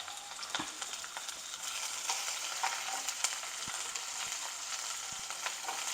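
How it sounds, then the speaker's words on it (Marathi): Chopped onion frying in hot oil in a home kitchen, a steady, close sizzle with occasional stirring clicks and scrapes, no voices. "आवाज येतोय ना कसं असं मस्त तेल तापलं तर कांदा पण छानपैकी परतून घ्यायचा आहे"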